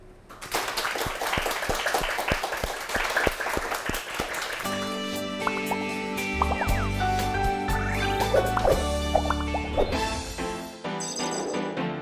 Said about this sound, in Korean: 청산유수 설이환 명장님의 강연을 큰 박수로 청해 보겠습니다